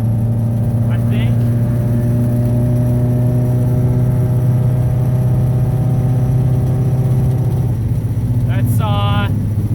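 Nissan S14 car engine holding about 5,000 RPM in 4th gear, a loud steady droning tone with strong harmonics and road rumble, close, easing off near the end.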